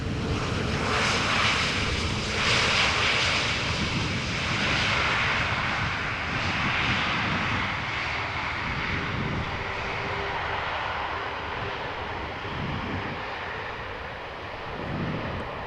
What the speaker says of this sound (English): Easyjet arriving from London Gatwick.